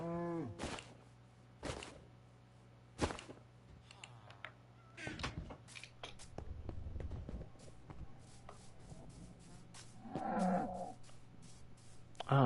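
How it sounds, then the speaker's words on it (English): Cows mooing in the Minecraft video game, several separate loud moos spaced across the stretch alongside other game sounds and occasional clicks. "Oh, they changed the sound of the cows."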